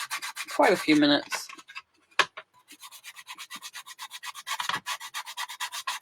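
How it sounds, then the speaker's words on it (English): Black paint being sanded off by hand, heard as a steady series of quick, close, rhythmic scraping strokes after a brief spoken word at the start. "the black's starting to come off as we're sanding it"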